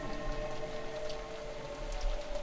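Wind and rain in the Umineko visual novel game, a steady faint wash of rainfall pattering on surfaces with a low rumble, no voices.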